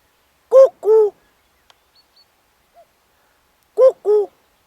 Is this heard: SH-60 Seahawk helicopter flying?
no